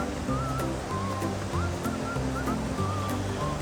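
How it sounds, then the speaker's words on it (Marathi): Water rushes out in a steady, loud roar at a Mumbai municipal hydraulic waterworks, a continuous broadband wash with a low hum and faint chirping tones beneath it. "एवढं पाणी इथून बाहेर आहे."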